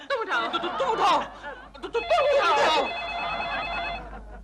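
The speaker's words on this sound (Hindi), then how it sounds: "फिर से फोन आया।" A telephone rings in bursts in an indoor home scene, its bright electronic tone sounding twice amid speech and light laughter.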